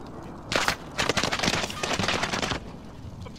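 Rapid gunfire in a battle royale video game cracks out in loud, dense bursts, with a short volley followed by a longer rattling stretch, close and sharp.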